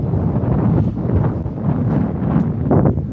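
Gusty wind buffets the microphone on a seaside pier, a loud continuous low rumble that swells and eases in waves for the whole stretch, with no voices.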